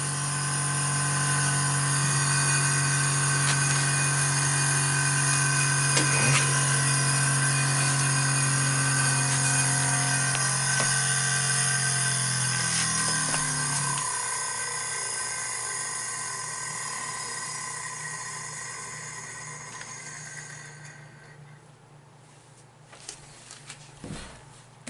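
A 1920s Westinghouse Rectigon 6-volt tube battery charger powers a small brushed motor, which gives a steady electrical hum and whine that slowly winds down and fades near the end, leaving faint clicks.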